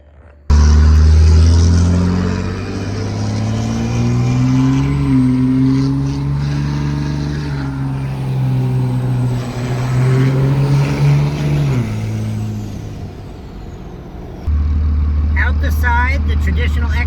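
A truck engine rumbles through a 5-inch straight-pipe side-exit exhaust, loud and deep, idling and swelling as the revs rise, with a person talking over it throughout.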